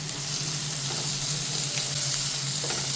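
Onions fry in a pan with a steady, dense sizzle throughout, faint stirring scrapes occasionally rising above the hiss, for a home-style chicken roast.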